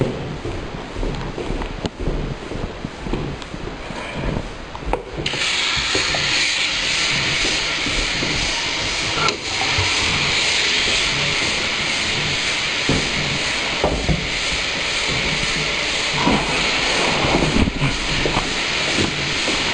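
Water spraying hard out of a plumbing fixture during a home inspection: a loud, steady, broadband hiss that surges stronger after a few seconds and then holds, with no talking.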